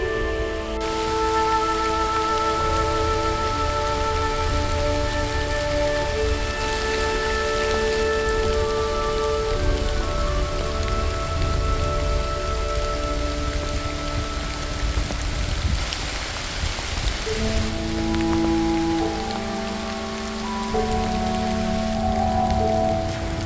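Steady rain falls across an autumn valley, a continuous even wash of drops that holds at the same level throughout, with sustained tonal notes layered over it.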